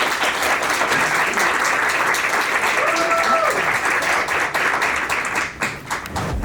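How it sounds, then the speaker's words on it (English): An audience at a Yale University event applauding a speaker, sustained clapping filling the room and tapering off near the end. "So can you just please give a round of applause for our speaker."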